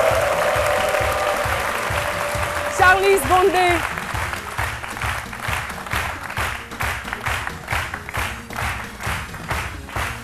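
A television studio audience breaks into applause for a guest, a dense sustained clapping that swells and continues after a presenter's voice introduces her.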